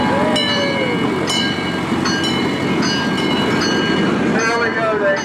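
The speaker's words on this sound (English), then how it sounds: "I still didn't find the entrance to that damn train." A small amusement park train at Paultons Park runs steadily through the clip with continuous rail rumble and some clicking, and people talk over it throughout.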